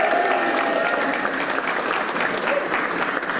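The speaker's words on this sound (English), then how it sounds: "Let's give them a round of applause too." An indoor audience at an awards event applauds its board members, with dense, steady clapping that holds at an even, close level from start to finish with no voices over it.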